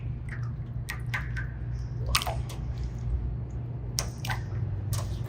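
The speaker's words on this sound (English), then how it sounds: "when you drop it, it sounds like water" Soft wet squishes and drips as water slime is dropped, a few scattered plops over a steady low hum, sounding like water splashing.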